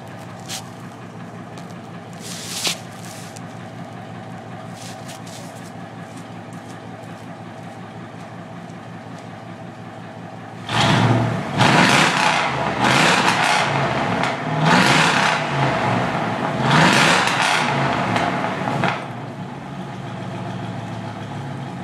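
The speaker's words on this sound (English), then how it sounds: "Truck runs in, it sounds good." A 2000 Dodge Ram 1500 Sport 4x4 pickup engine idles with a low rumble, then revs up loudly several times in surging bursts before easing back to a steady idle.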